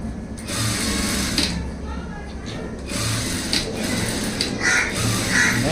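Sewing machine stitching thread-roll piping runs in steady mechanical bursts with brief pauses, while crows caw in the background.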